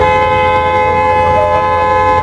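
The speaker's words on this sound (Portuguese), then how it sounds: "cada um tem a sua buzina" Car horns honk loudly and continuously in close range in Indian traffic, overlapping steady tones blaring without pause like traffic at a standstill.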